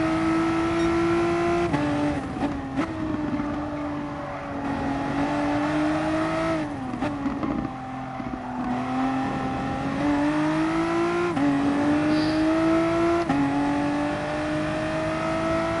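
VW car driven on the Nurburgring GP circuit, its engine loud and close, dropping pitch under braking and lifting, then rising again through repeated gear changes as it accelerates out of corners, with no talk.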